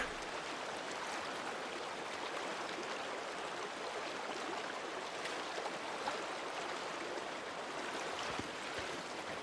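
Steady creek water flowing in the Days Gone video game, a continuous rushing babble at low level with no voices over it.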